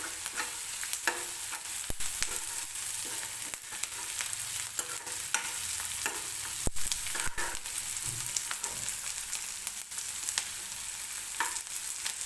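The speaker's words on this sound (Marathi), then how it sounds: "कांदा थोडासा मऊ होईपर्यंत भाजून घ्यायचा आहे आपल्याला" Onion fries in hot oil with whole spices, giving a continuous close sizzle over twelve seconds with frequent sharp scraping and clicking from stirring, and no voices.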